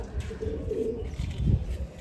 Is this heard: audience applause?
no